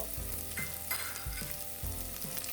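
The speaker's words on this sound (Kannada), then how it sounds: "ಇವನ್ನ ಸ್ವಲ್ಪ ಎಣ್ಣೆಯಲ್ಲಿ ಫ್ರೈ ಆಗೋಕ್ಕೆ ಬಿಡಿ." Onion, dried and green chilies, garlic pieces and curry leaves frying in hot oil for amaranth stem saaru, a steady close sizzle broken by a few soft stirring scrapes, no voices.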